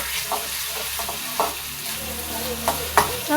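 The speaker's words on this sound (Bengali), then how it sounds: "পেঁয়াজটাকে সুন্দর করে লাল করে ভাজবো, লাল করে ভেজে নেবো।" Onions with garlic fry in a pan, giving a soft continuous sizzle close by, with intermittent spatula scrapes and clicks against the pan.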